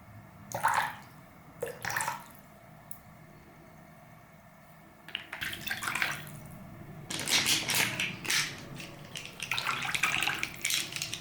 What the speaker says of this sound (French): Je vais juste un peu rincer comme ça et puis venir faire sécher.